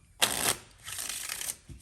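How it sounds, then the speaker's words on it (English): A regular deck of playing cards is shuffled in two quick riffling bursts, close and crisp, against an otherwise quiet room. "You can shuffle them,"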